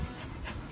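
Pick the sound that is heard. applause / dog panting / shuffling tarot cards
dog panting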